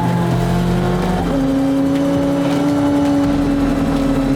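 A Ford Mustang with a flame-tune exhaust roars past loudly and close, its engine note holding steady and then shifting upward as it goes by.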